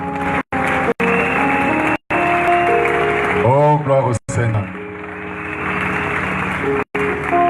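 A church congregation applauds and acclaims in praise of Jesus Christ, sustained loud clapping and voices with short cuts, someone speaking over it partway through.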